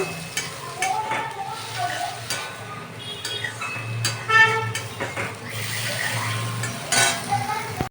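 Masala sizzles in a pan with a splash of water as a spatula stirs and scrapes it, sputtering crackles and metallic clinks coming in uneven bursts close by.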